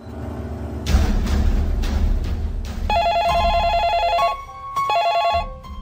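A telephone bell rings in a home, following a low rumble; several loud trilling rings come in steady bursts with brief gaps between them.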